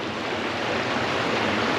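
Bear Creek in the San Gabriel Mountains runs steadily close by, a dense, even rush of flowing water that holds at a constant level with no voices over it.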